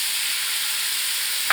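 Quail eggs sizzling in a hot pan, a steady, even hiss of frying that holds without a break throughout.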